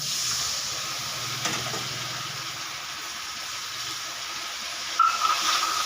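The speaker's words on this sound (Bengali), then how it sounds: "দেখুন বন্ধুরা, ঝোলটা ফুটছে" Curry gravy boils in a pan, giving a steady, soft bubbling hiss with a faint low rumble early on and a brief clink near the end.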